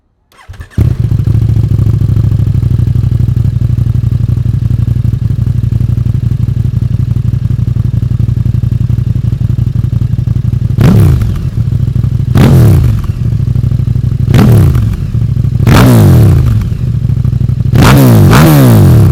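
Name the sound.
KTM Super Duke 1290R motorcycle starting, Akrapovic titanium exhaust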